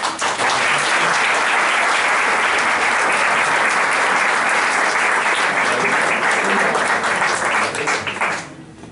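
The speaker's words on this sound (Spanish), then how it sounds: "Un aplauso para Carlos." An audience claps steadily and loudly for several seconds, the applause fading out abruptly near the end.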